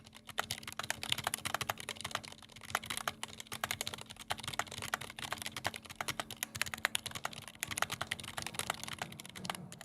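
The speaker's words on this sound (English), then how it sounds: "Can y'all hear the keyboard?" Fast, steady typing on a computer keyboard during website coding, with dense clicking keystrokes running the whole time at a low, close level with no voices.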